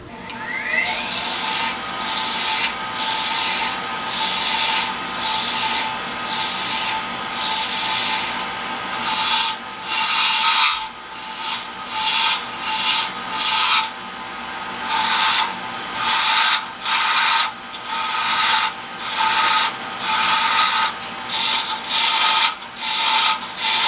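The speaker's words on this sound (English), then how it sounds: "So now I'm just going to turn myself a pen." A pen blank being turned on a wood lathe with a commercial pen kit, a loud, steady hiss of cutting with repeated rhythmic scraping passes over a constant motor hum, no voices.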